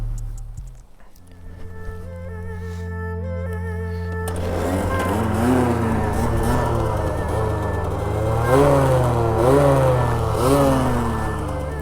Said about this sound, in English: I'm just gonna pop some wheelies and get warmed up